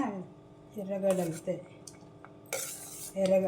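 A spoon clinks and scrapes against a bowl while peanut chaat mix is stirred, in a few irregular bursts of metallic tapping and scraping, close by, with a voice speaking between them.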